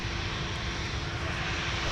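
Airliner taking off from a runway at Minneapolis–Saint Paul airport, a loud continuous roar of aircraft engines filling the whole moment without pause or talk.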